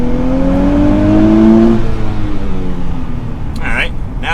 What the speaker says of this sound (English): I'm just going to manually basically launch it